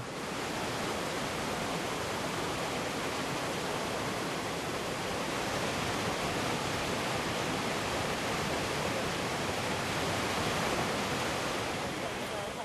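A famous waterfall near a bear rescue centre in northern Laos roars as a constant, broad wash of falling water, loud and unbroken throughout.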